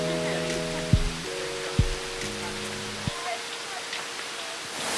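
Waterfalls tumble beside a small bridge on a gravel mountain trail up to Praděd in the Bílá Opava valley, a steady broad rushing wash heard close and loud throughout, with a few knocks and a brief tonal hum early on.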